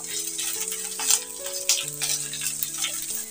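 Sliced onion, beans and carrot frying in a pan while being stirred, a light sizzle with a few spoon taps, under a soft steady background tune, no talking.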